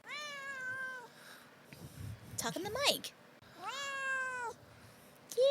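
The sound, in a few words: pet cat meowing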